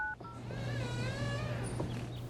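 A telephone being dialed to call NASA: a couple of quick touch-tone beeps at the start, then a steady electronic warbling tone over a low hum, close and moderately quiet.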